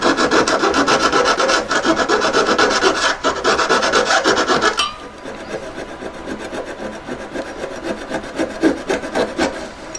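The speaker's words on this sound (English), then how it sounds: "once you've got the hole going, it saws quite quickly, so it helps your blade stay in a good position" A hand saw blade cuts through metal while forming an oval, four-claw, gate-style collet. Quick, rhythmic rasping strokes repeat close up, louder for the first half and then softer and thinner, with no voices.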